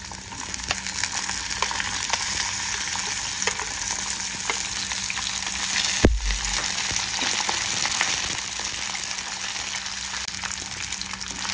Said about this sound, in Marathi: तोंडली आपल्याला चांगली फ्राय करून घ्यायची आहे।